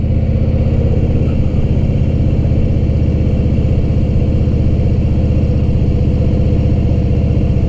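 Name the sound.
car engine driving in second gear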